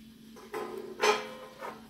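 A lid set down on a cooking pot of water, with a few short metallic clanks and scrapes close by, the loudest knock in the middle and a lighter tap after it.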